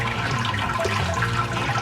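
About six litres of hot sparge water are poured into the mash for a home-brewed West Coast pilsner, a loud, continuous rushing gush of water heard close and steady with no voices.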